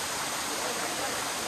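Rushing water from the upper point of Shain Gong waterfall, a continuous broadband roar that stays steady and close throughout the short moment, with no voices heard.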